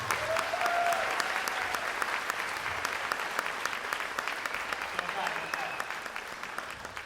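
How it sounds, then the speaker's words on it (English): Sustained audience applause for graduating seniors at a high school spring band concert, a dense steady wash of clapping with a few whistles and cheers, tapering slightly near the end. "One last round of applause."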